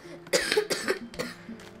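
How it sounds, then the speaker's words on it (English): Several short, harsh coughs from a man who is a little sick, coming in a quick rough burst with brief gaps between them, close to the microphone and fairly quiet overall. "I have the cough"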